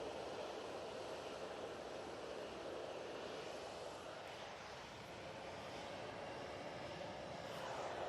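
Air Baltic airliner arriving at Manchester Airport, a faint, distant broadband jet roar holding steady throughout without any talking.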